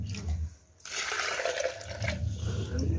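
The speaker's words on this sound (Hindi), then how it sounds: "अब इसमें डाल लूंगी थोड़ा सा पानी" Water poured from a vessel into a chalk mixture being prepared for a cow-dung plaster at home, a close splashing trickle that pauses briefly and then runs on steadily.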